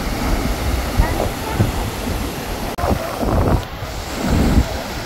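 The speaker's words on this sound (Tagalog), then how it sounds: "May konting alon po ngayon." Small ocean waves at a beach in General Nakar, Quezon, surge and wash in several swells, blended with heavy wind buffeting the microphone.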